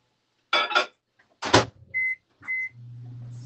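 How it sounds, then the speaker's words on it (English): A microwave oven heating butter and panko: two dull clunks of the door being handled, then two short electronic beeps and a low, steady hum as it starts running, close and without talk. "Put this in the microwave."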